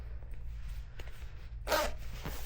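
A zipper on the sleeve of a soft leather and textile motorcycle jacket gives one short, close rasping pull, preceded by quiet handling rustle.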